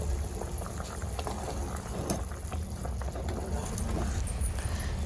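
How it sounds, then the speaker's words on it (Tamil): Vegetable kurma gravy with carrots and beans bubbles in a pot, a steady low simmering rumble with soft popping and a constant hiss, close and moderately quiet throughout. "குழம்பு நல்லா கொதிச்சு மசாலாவோட எசன்ஸ் எல்லாம் காயில் நல்லா இறங்கிடுச்சுங்க."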